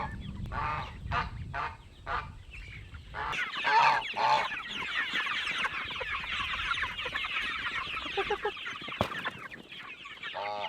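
Farm ducks, geese and poultry crowd around cantaloupe, calling loudly with repeated honks, quacks and clucks close by, a dense overlapping flock chorus throughout with a sharp click near the end.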